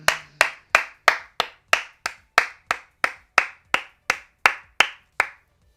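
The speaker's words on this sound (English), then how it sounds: "I'm clapping" One person clapping hands alone, about fourteen sharp, evenly spaced claps in a steady rhythm, close and clear against near silence.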